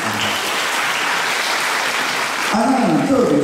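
Audience applause at a live full-band album concert in Tainan, a dense steady wash of clapping that fills the room, with a voice and music coming in near the end.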